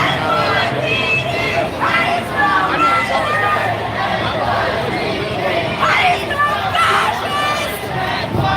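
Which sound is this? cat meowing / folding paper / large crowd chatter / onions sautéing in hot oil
large crowd chatter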